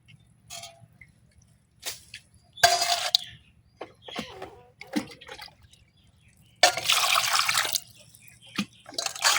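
Raw chicken is washed by hand in water, with splashes, drips and squishing in irregular bursts and two longer runs of pouring or splashing water.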